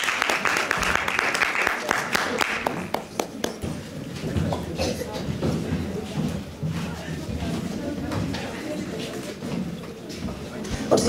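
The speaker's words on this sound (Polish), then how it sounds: "Wielkie brawa dla pana, do druha Antoniego" An audience at a patriotic song festival applauds a scout leader, sharp individual claps at first building into a sustained round of clapping, with voices talking underneath throughout.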